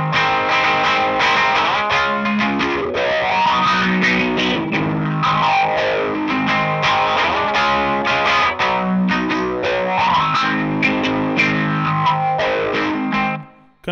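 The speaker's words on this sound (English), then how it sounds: "it has the small stone from Electro Harmonix, which I use, once again, only really use in one song, but it's for this really... slow phaser sound" Electric guitar run through an Electro Harmonix Small Stone phaser pedal, giving a slow, sweeping phase swirl over sustained distorted chords that ring continuously and loudly with no talking, cutting off at the end.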